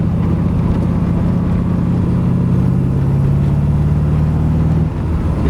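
A 1973 Corvette with a 496-cubic-inch big-block stroker and four-speed idling close by, a loud, steady, deep rumbling burble that dips slightly near the end.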